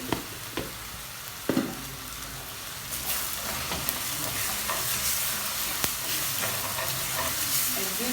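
Coriander powder, paprika and other spices frying in oil for a chicken gizzard dish, a steady bright sizzle that grows louder and fuller, broken by a few sharp clicks of a utensil stirring the pan.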